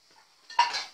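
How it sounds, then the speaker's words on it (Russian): Gnocchi tipped into a frying pan: a short scrape and clatter against the metal pan, then a soft rattling spread of pieces, all within about a second. "Высыпаю сюда эти ньокки-мёкки."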